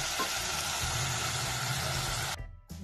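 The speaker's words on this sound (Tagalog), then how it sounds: "Luluto po natin maigi ang kamatis" Tomatoes for salmon head sinigang sa miso cook in a pan with a steady, close sizzle that cuts off abruptly near the end.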